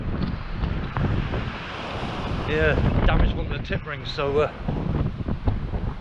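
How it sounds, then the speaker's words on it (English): Strong wind gusts buffet the microphone on an exposed stretch of coast at Lilstock, a steady roaring rumble throughout with someone talking over it midway. "You probably hear the wind's getting up now"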